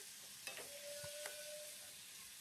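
Chopped onion and prawns stirred in a frying pan for a prawn and sweet pumpkin curry: a faint, steady sizzle with a couple of soft spoon scrapes, and no talking.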